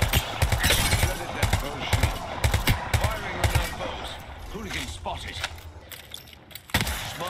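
Rapid gunfire from a match of the video game Apex Legends, dense bursts of close shots and clattering impacts that thin out, then flare again near the end.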